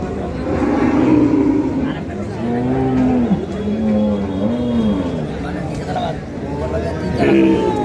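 A Jersey dairy cow moos in long, drawn-out calls at a busy cattle market, the lowing rising and falling over several seconds beneath steady crowd chatter and nearby talk.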